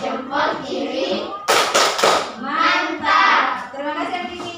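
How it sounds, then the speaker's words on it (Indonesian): A child plays the rhythmic Indonesian thumb-clapping game tepuk jempol in a classroom, chanting with a short burst of close, sharp hand claps in the middle of the rhythm. "Tepuk jempol. Jempol kanan, jempol kiri."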